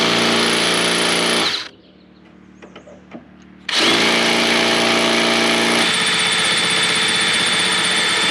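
A power drill bores out a carburetor part, running loud and steady for about two seconds, stopping briefly with small handling clicks, then spinning up again with a shift in pitch near the end.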